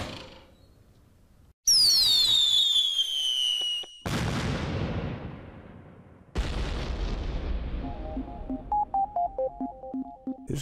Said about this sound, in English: oh boy, we get these weird firework sounds